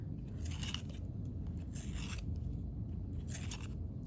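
A handheld sharpener twists against a colored pencil, making about three quiet, gritty rasping strokes at a steady pace, close and alone.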